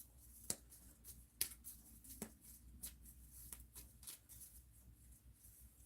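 A regular deck of playing cards shuffled by hand, giving faint, close, irregular riffles and soft snapping taps spread across a quiet background.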